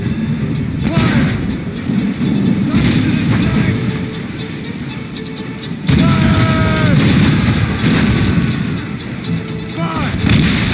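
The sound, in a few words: ship cannons firing in video game Assassin's Creed Rogue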